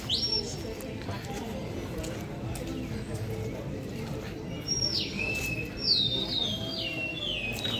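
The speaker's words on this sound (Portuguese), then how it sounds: "Pô, o passarinho tá cantando muito, hein?" A small bird sings in a few bright, rapid chirping phrases, faint and somewhat distant over steady background noise, with people talking nearby.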